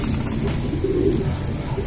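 Pigeons, unboxed as prized record-holding birds, coo steadily and close by in a continuous low, throaty murmur with no talk.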